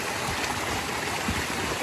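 Small burn flowing on a hillside during red deer stalking, a steady, close rushing and gurgling of water with no voices.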